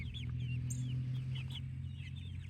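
Several chickens cluck and chirp close by over a steady low hum, their short calls rising now and then.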